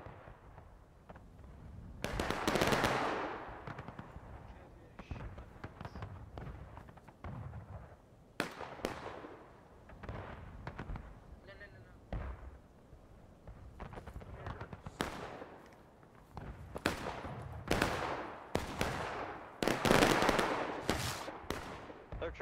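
Crackling musket volleys and scattered single rifle shots ring out across a Civil War battlefield in War of Rights, some close and sharp, others distant, with voices talking over the firing.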